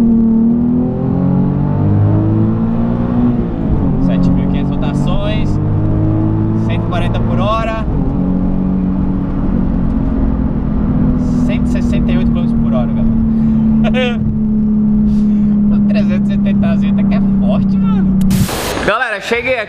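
A Nissan 370Z fitted with a new exhaust pulls away in first gear from about 2,000 rpm, its engine note rising steadily and loud for most of the stretch before cutting off sharply near the end.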